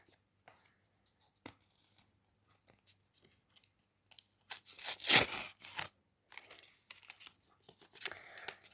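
Quiet scattered rustles build into a burst of loud plastic crinkling and tearing as a pink plastic package is opened, then trail off into lighter crackles.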